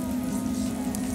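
Steady sizzling of small sand whiting and herring frying in a pan, a continuous crackling hiss with no voices.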